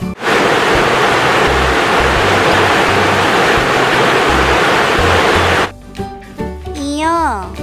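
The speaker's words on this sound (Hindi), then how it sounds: "झ से झरना" A waterfall roars as a loud, steady rush of water for about five seconds, cutting off abruptly before a voice speaks.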